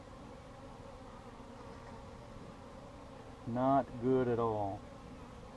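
Agitated honey bees at an inspected hive drone in a steady, dense buzz throughout, with someone briefly speaking over the swarm near the end.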